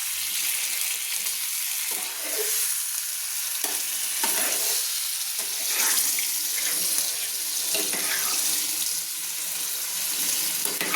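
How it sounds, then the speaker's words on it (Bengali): Water pours steadily into a hot cooking pot of potol chingri, a Bengali pointed gourd and prawn curry, making a continuous hissing splash with faint scraping and sizzling throughout. "প্রয়োজন মতো জল আমি অ্যাড করে দিচ্ছি"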